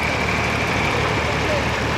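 A 1960 Nuffield 3DL tractor engine runs steadily with a dense, continuous low rumble in the ring at a steam fair, loud and close, amid outdoor show ambience.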